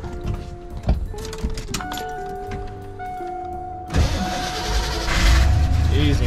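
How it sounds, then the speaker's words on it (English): A Ford Bronco engine cranks and fires up after sitting for a few weeks, with a sudden broadband roar around four seconds that settles into a loud, steady idle close by, following quieter tonal whine and knocks. "Let's see if she'll fire up."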